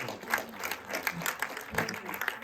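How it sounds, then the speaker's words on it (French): An audience applauds guests as they come up onto a stage at a project launch event, a brief patter of clapping from a modest crowd mixed with faint voices. "Vous pouvez évidemment les applaudir."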